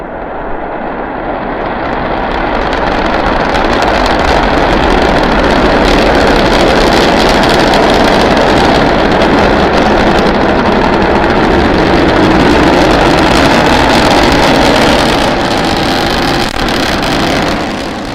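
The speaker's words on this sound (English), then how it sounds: "all 3 Raptor engines at power" A SpaceX Starship with three Raptor engines roars during launch and climb, a broad continuous thunderous rumble that swells in the first seconds and holds loud and steady, with no talk.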